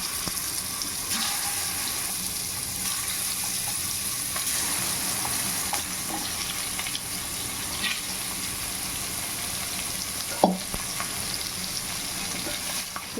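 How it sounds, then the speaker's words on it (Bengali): Chicken pieces frying in a pan for biryani, a continuous crackling sizzle with occasional scrapes and stirring knocks, including one sharp clunk near the end, and no voices. "এবারে চিকেনগুলো এটার মধ্যে ভেজে নেব।"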